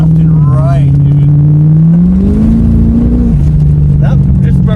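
A 1989 Corvette's engine revs hard in second gear as the rear end breaks loose, a loud close-up roar that rises and climbs in pitch, then drops back as a shift comes, with a voice briefly under it.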